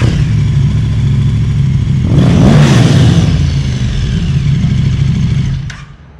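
A motorcycle engine idles close by, then revs hard in one loud, sustained burst before dropping back and cutting off, with no talk over it.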